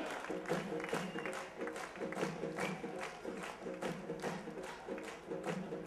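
A crowd claps steadily through an M.V. Foundation gathering, with repeated voiced chanting riding over the dense, continuous applause.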